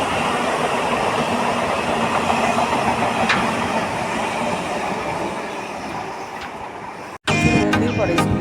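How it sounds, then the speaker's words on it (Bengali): Train approaching and passing, a sustained loud rumble of rolling wheels that slowly eases, then cuts abruptly to a different scene with shuffling and clatter near the end. "দেখো ট্রেন আসছে।"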